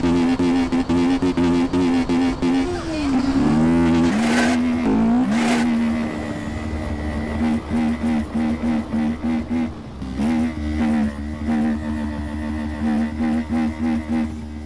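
A CB 500X motorcycle is ridden in GTA San Andreas. Its engine drones close and loud, the pitch rising and falling with revving, and ends in a series of quick, rhythmic throttle pulses.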